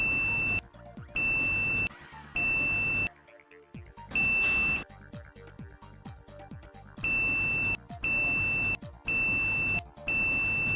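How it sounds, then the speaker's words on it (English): A multimeter's continuity test beeps in repeated bursts on shorted motor windings, each about half a second to a second long, close and loud, with quieter clicking and handling noise between groups. "It beeps on all 6 connections"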